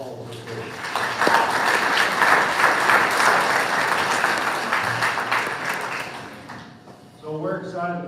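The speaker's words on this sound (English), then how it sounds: "Let's give them a round of applause." A school audience applauds athletes at an honors event, a dense wash of clapping and crowd noise that swells early and stays loud before easing off, with a voice starting to talk near the end.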